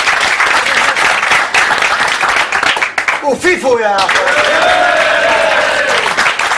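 Lively studio audience applause on a comedy talk show, loud rapid clapping at close range that dips briefly while a voice speaks, then returns full and steady with whoops and cheers.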